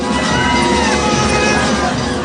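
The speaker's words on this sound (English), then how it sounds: "All the women were screaming and crying" Women scream and cry aboard the burning excursion steamer General Slocum in 1904, a dense, loud, unbroken wall of panicked crowd shrieks and wails filling the whole moment with no pause.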